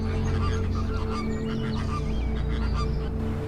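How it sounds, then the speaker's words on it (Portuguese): A dense, continuous chorus of honking birds in the Kalahari, many calling at once from a large flock, loud and unbroken with a steady low rumble beneath. "Os pássaros chegaram em grande número, como uma avalanche."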